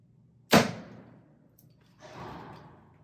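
An Elite Carbon Era compound bow fires once with a sharp, close thwack and brief string hum, followed a second and a half later by a softer, duller thud of the arrow striking a target.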